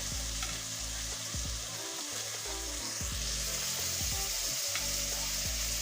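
Lemon chicken sizzles steadily in a kadai as a utensil stirs it in short, repeated scrapes, with a low droning hum underneath throughout and no talking.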